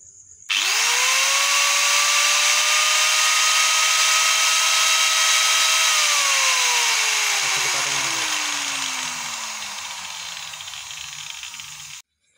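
An angle grinder is switched on after its cable has been rewired. It whines up to a steady loud high-pitched spin, holds, then winds down with a falling pitch before cutting off.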